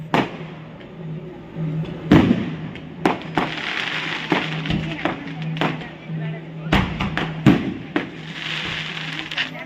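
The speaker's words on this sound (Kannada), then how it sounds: "ಹೊಳೆಯಿಂದ ಆಚೆಗೆ ಪಟಾಕಿ ಹೊಡಿತಿದ್ದಾರೆ" Several sharp firecracker bangs burst across a river at irregular intervals during the final day of the Hariharapura agricultural fair, some loud and close, over a steady background hum and murmur.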